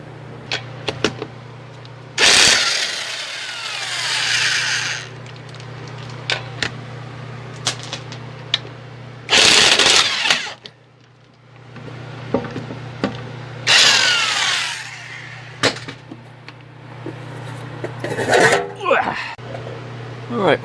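Tools working on the passenger side rear wheel of a BMW E85 Z4, with several loud bursts of whirring or grinding separated by quieter stretches, a steady hum and scattered clicks and clanks, close by.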